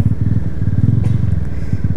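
A Honda CG 125 motorcycle fitted with a Fortuna exhaust rides along, its single-cylinder engine putting out a steady, loud, rapid low thump close by, with no talking.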